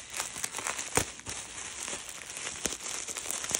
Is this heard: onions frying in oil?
no